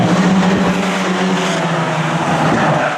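Race cars roar around an oval track at a Hornet-class event, a loud, sustained engine drone of several cars running together, with a faint tire squeal beneath the continuous noise.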